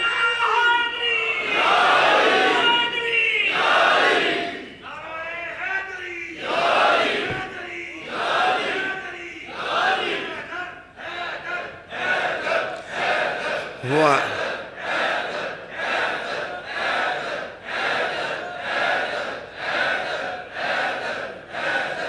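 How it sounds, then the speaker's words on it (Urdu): A crowd at a weekly Quran lecture gathering chants the Haider slogan in loud, rhythmic unison, the repeated call rising and falling in bursts close by. "میں نے تو نعرے نہیں لگائے، آپ نے کہا ہے حیدر حیدر"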